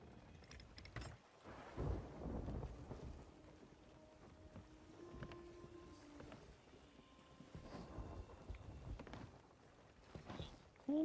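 A thunderstorm at sea in the video game Sea of Thieves rumbles through low, rolling thunder and gusting wind, with creaking and sloshing of a sailing ship, faint and continuous.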